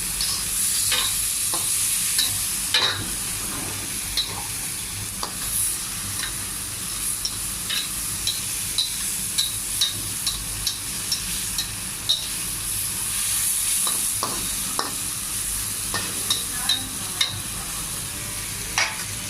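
Pancit guisado noodles being stirred and fried with soy sauce in a pan, a continuous close sizzle with repeated scraping and clinking of the utensil against the pan.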